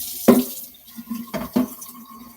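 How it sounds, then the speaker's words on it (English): Tap water from an under-sink filter running into a gallon jug in a kitchen, heard as soft splashing and gurgling with a few louder sloshes, fairly quiet and without talk. "So I'm going to fill it up with cool water."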